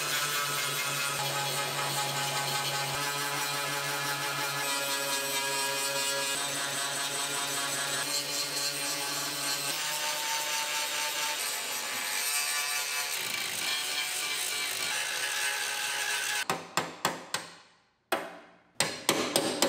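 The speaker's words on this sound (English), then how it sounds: "And then grind out those spot welds." Angle grinder cutting through spot welds on rusty frame rails of a 1965 car, a steady loud, harsh grinding whine lasting about sixteen seconds, then breaking into short bursts and clanks at the end.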